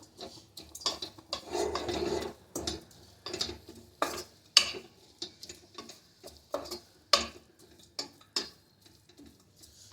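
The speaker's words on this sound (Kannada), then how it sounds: "ಫ್ರೈ ಆಗ್ತಾ ಇದೆ ನೋಡಿ ಮೆಂತ್ಯ ಸೊಪ್ಪು" Fenugreek leaves frying in a pan for methi paneer biryani, heard as a series of sharp spatula taps and scrapes against the pan with a faint sizzle between them, close by and without speech.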